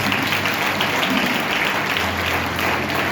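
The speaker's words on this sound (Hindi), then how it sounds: "ताली बजाते हैं।" A church youth gathering's audience claps together, a loud, continuous wash of applause filling the room throughout with no gaps or voices.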